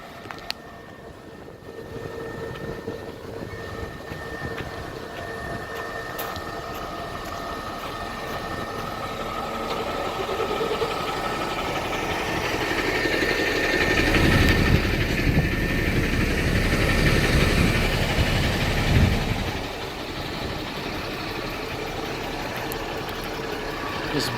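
Tourist buses idle on a Pattaya street with a continuous low diesel rumble that swells louder midway, along with faint street background and no clear talk.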